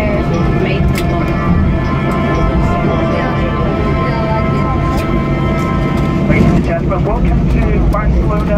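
Steady jet engine roar inside the cabin of a Ryanair Boeing 737 in flight, a constant loud drone through the whole stretch with a voice talking over it.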